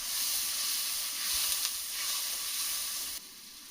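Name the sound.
spice paste sizzling in pan with added water, fish curry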